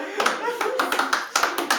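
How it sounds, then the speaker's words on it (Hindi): A handful of claps from a small audience come in short, uneven bursts close by, mixed with ongoing talk. "इनकी तालियां बता रही हैं कुछ"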